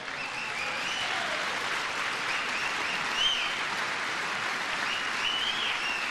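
Lawmakers at a joint session of Congress applaud during a presidential address, a sustained, even roar of many clapping hands in a large chamber, with faint cheers rising within the din.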